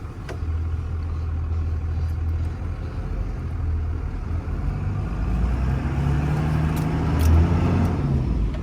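A 24-valve Cummins turbo diesel pickup is driven and gradually accelerates, its low engine rumble holding steady and rising in pitch and load toward the end, heard from inside without speech.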